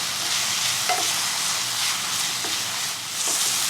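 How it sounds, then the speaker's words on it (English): Mushrooms fry in a pan with a loud, steady hissing sizzle, broken by a few soft scrapes as they are stirred. "we're going to let these mushrooms cook for about 7 minutes until they're nicely cooked through"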